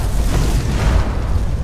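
An explosion in Skyrim: a dense, continuous roaring blast like a sustained explosion, loud and close, with crackling debris throughout.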